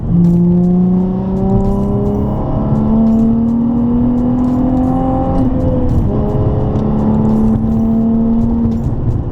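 Loud, steady low exhaust drone heard inside the cabin of a Nissan 350Z with its muffler removed, a continuous humming tone that rises slightly in pitch, with faint ticking above.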